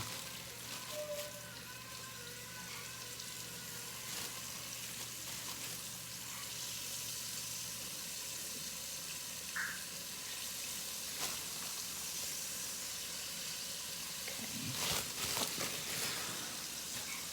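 Beef browning in a cast iron dutch oven for stew, a soft, steady sizzle and crackle at low volume with occasional small pops and clinks toward the end.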